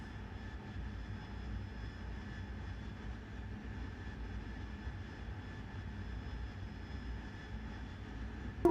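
Harrier jet engine in DCS World flight simulation, a steady low droning roar with a faint high whine, constant and even throughout, no voices.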